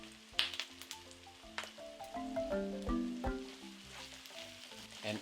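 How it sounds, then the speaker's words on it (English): Softening onions with added garlic and ginger sizzle gently in a pan, a soft steady frying hiss broken by a few clinks and stirring knocks, close and fairly quiet. "Once the onions start softening, add some of the garlic, about a tablespoon or so"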